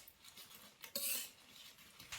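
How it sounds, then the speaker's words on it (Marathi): Whole red chillies dry-roasting in a pan for goda masala, stirred with a utensil that clinks and scrapes against the metal in quiet irregular taps, with one louder rattle partway through. "बघा ह्या अशा मिरच्या भाजून घ्यायच्या."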